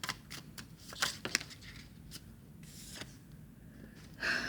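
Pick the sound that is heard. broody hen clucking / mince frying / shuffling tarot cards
shuffling tarot cards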